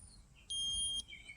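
A Keto Mojo blood ketone meter gives one steady electronic beep after taking a reading, a clear high tone lasting about half a second over a quiet room.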